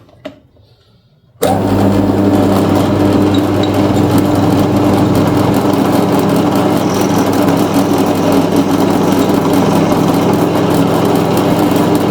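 A drill press running with loose belts kicks on after a brief quiet moment and holds a loud, steady whirring hum with a vibrating drone and no voices.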